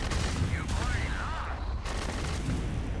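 Ship turrets firing in the space game Starfield with a Va'ruun weapon mod, dense rapid bursts of gunfire and booms over a rumbling low background, with someone talking over it.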